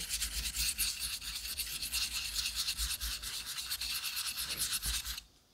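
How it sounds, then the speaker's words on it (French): A Japanese straight razor laid flat with its spine on a whetstone during a restoration sharpening, making steady, close, rhythmic rubbing strokes back and forth that stop abruptly near the end. "On s'assure que notre rasoir est bien à plat. Dos sur la pierre."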